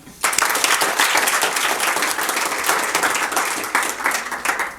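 A crowd claps steadily at a sports gala award ceremony, dense sustained applause starting abruptly and continuing for several seconds, fairly close.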